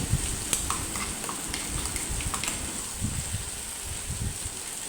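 Ginger garlic paste frying in a hot pan as it is stirred, a steady close sizzle with soft scraping and stirring strokes throughout, no voices.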